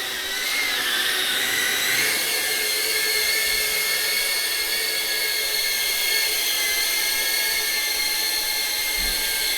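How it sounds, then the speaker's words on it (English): An FPV drone flies indoors, its propellers giving a steady high-pitched whine that shifts in pitch, loud and continuous throughout, with no talk. "the drone is going up"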